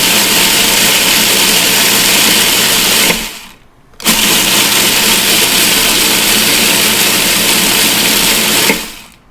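A food processor whirs loudly while pulsing motichoor ladoo mixture, running steadily for about three seconds, cutting off briefly, then running again for several seconds before stopping.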